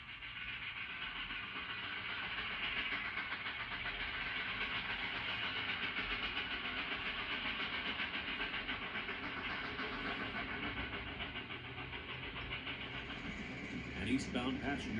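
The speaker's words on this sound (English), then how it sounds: "As a Mikado moves the freight on parallel Big 4 track." A Mikado steam locomotive hauls freight along Big 4 railroad track between Springfield and Dayton, Ohio, giving a steady, continuous rumble and rolling clatter that holds at an even level throughout, with a brief knock near the end.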